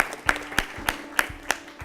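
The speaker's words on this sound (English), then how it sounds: "Let's clap for them as well." At a national school quiz competition, the audience claps in a thin, scattered way, with about half a dozen distinct sharp claps spaced out over under two seconds.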